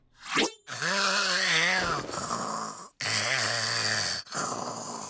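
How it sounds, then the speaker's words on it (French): A cartoon mantis character snores loudly and close, drawing long, wavering, groaning breaths in two or three drawn-out cycles with short gaps between them. "Il se trouve que Lady Mantis ronfle comme une limace."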